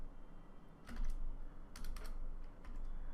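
Typing CSS code on a computer keyboard, with quiet clusters of key clicks in short bursts, close and soft, over a low background hum.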